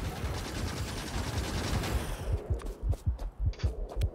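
Gun turret in Factorio firing at attacking biters, a dense rattling stream of shots that gives way to a series of separate heavy thumping bursts, loud and close.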